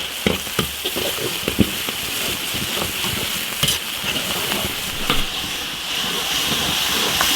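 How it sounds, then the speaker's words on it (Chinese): Scallions and chili paste stir-fry in hot oil in an iron wok, a loud continuous sizzle and hiss broken by clanking spatula strokes against the metal. "大葱、辣椒酱， 炒香，炒出红油"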